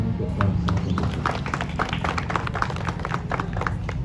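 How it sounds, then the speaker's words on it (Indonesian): Gathering in Bukittinggi at a free mass circumcision event applauding, steady scattered hand claps at moderate distance continuing throughout, with a low hum and a voice underneath. "Kita berikan tepuk tangan untuk kuasa pemerintah"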